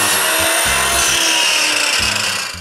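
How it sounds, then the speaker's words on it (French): A miter saw whines steadily while its blade bites into wood for workshop window frames in two short bursts, loud and close. "je sécurise ma scie à onglet sur mon établi"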